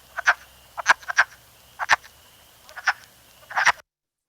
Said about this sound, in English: it's not ducks, it's never ducks, it's wood frogs